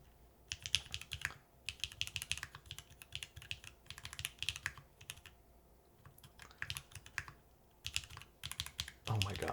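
Bursts of rapid clacking keystrokes on a Tofu TKL mechanical keyboard, dense typing runs broken by short pauses, close to the microphone with a faint low hum underneath.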